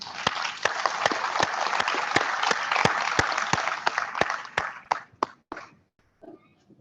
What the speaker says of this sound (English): show a round of applause for Ani Mikairi